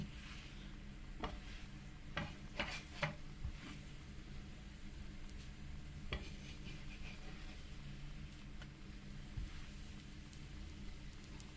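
A crepe filled with minced meat fries quietly in a pan, giving a low, steady sizzle with a few scattered clicks and taps from stirring or turning. No voices.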